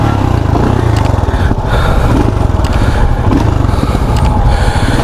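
A Royal Enfield Scram 440 motorcycle engine drones steadily and loudly while riding, a continuous close-up thrum with a slight wavering in pitch and no pauses.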